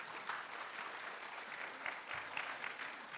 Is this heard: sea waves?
no